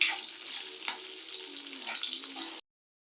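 Chillies fry in hot oil in a pan for a citron pulihora tempering: a close, continuous hissing sizzle with light stirring that cuts off abruptly near the end.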